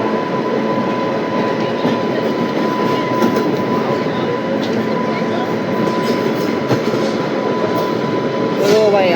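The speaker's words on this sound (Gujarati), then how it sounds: "તો ભાઈ આપણું લોકોમોટિવ વળી ગયું છે રાજકોટવાળી લાઈન તરફ." Locomotive-hauled train rolling onto the Rajkot line toward Rajkot Junction: a steady, loud, close rumble of wheels and carriages with a faint constant tone and a brief squeal near the end.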